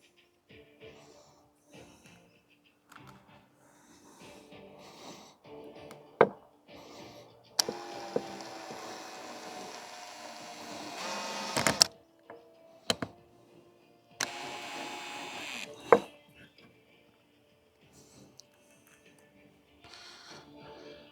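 Screws and bolts being driven in during a playground upgrade: two bursts of whirring power-driver noise between quieter handling clicks and knocks, with a person speaking in between.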